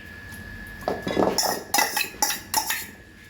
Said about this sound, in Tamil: இப்போது நம்ம அதோட நல்லா கலக்கிறோங்க